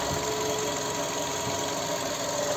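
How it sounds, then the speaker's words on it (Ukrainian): A 2008 Skoda Octavia A5 with a 1.6 MPI BSE petrol engine idles nearby with a steady low rumble and a faint mechanical ticking, unchanging throughout. "Робота двигуна"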